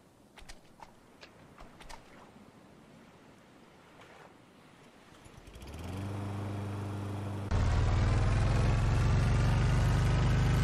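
Boat engine in the Stranded Deep video game starts up after wind and surf, rising into a steady droning hum that steps louder and stays running to the end.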